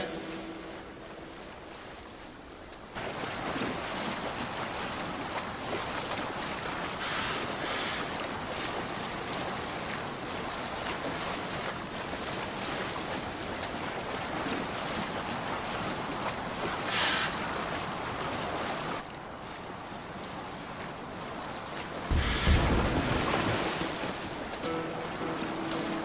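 Viking longship under sail on open ocean in Assassin's Creed Valhalla, with steady wind and rushing waves washing past the hull for the whole stretch and a louder gust or splash surge near the end.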